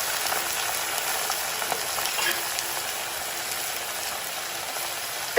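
Frozen meatballs cook in a pan with a steady, soft hiss and sizzle that continues evenly throughout, close by and without talk.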